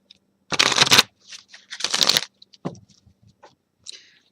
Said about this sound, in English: I'm going to continue to shuffle now for Gemini